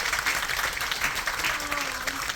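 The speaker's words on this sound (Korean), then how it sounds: "시청자분들께 큰 박수 부탁드리겠습니다." An audience at a stage greeting after a performance of the musical Origin of Species claps steadily, a soft, fairly distant patter of many hands with a low hum beneath.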